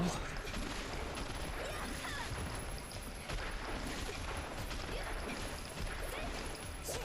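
Rapid gunfire bursts from the video game Onechanbara: Bikini Zombie Slayers, dense and steady throughout, with crashing impacts layered over a continuous loud din.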